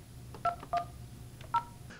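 Telephone number dialed on a keypad at home: three short, clear touch-tone beeps spaced unevenly across two seconds, faint and alone against a low background hum.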